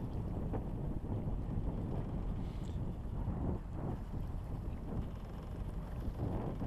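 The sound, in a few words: sailboat motoring under engine power in wind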